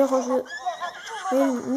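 A horse in Zelda: Breath of the Wild gives a loud, close neigh, then a second shorter whinny near the end, with a brief pause between them.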